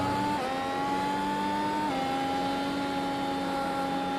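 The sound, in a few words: race car engine in iRacing video game, entering pits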